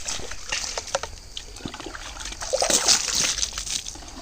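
Water from a bucket splashes and sloshes onto a garden bed of coriander and fenugreek, in uneven bursts at close range against a faint outdoor background.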